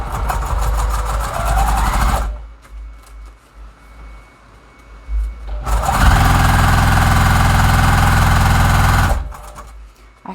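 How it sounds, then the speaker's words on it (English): A sewing machine runs a quarter-inch seam in two steady bursts of fast, even stitching, loud and close, with a quiet gap of a few seconds between them. "So I'm just going to sew a 1/4 inch seam all the way down."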